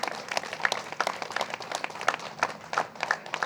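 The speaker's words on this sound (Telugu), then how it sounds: "ఆయన సంకల్పానికి ఒకసారి గట్టి క్లాప్స్ కొడదాం." Audience applause at a Telugu public gathering, with scattered claps spread evenly through the whole stretch, moderately distant and fairly soft, with no talk over it.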